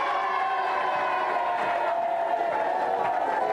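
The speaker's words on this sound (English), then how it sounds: "give them a big cheer while they go" TV game show studio audience cheering and applauding as contestants head to the hot seat, a sustained, fairly faint wash of clapping and voices with a tonal, siren-like whoop running over it.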